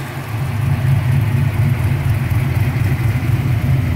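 A turbocharged Fox-body Ford Mustang idling on its first start, a steady, low, throbbing engine rumble that stays loud and even throughout with no talk.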